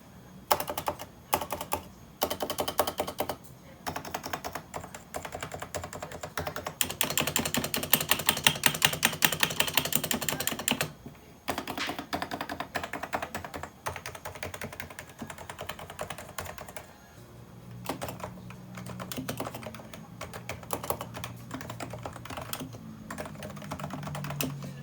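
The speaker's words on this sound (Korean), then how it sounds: "작업 전 순정 상태의 타건음입니다" Steady typing on a stock, factory-original Realforce 87 silent keyboard, an 11-year-old electrostatic capacitive board, with bursts of close, soft key presses, a denser flurry midway and slower strokes near the end.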